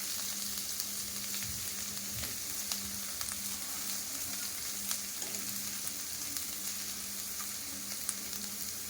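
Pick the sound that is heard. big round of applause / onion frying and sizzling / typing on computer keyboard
onion frying and sizzling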